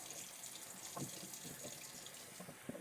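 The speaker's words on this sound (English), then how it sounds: "we're going to start the water running, cold water" A kitchen tap runs cold water in a steady stream, splashing into a sink at moderate volume with no one speaking.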